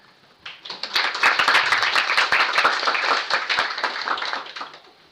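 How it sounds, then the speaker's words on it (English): A round of audience applause at a sustainability youth conference, many hands clapping crisply together, rising quickly after a brief quiet start, holding steady, then tapering off near the end. "please give a hand of applause to Ella"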